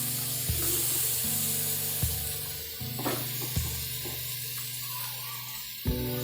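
Grated carrots sautéing in a pan for rava idli, a steady sizzle with occasional scraping stirs and a low electrical hum underneath.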